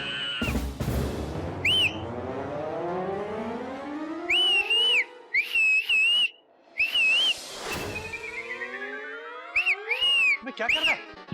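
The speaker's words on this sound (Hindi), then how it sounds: "सीटी मार रहा है?" A man whistles in short, bright, warbling bursts. Each burst rises and falls, and a loud droning siren-like tone with sweeping pitch runs underneath.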